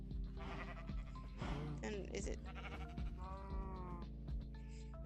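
Minecraft sheep bleat in repeated wavering cries, close and loud, while people talk over them throughout.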